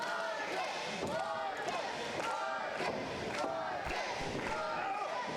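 Crowd at a live independent pro wrestling event roaring and cheering steadily, with sharp slams and thuds from the ring breaking through the noise.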